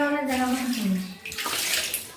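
Tap water runs steadily over katla fish as they are rinsed clean, a close, full splashing rush lasting about two seconds, with a short voice-like tone at the start.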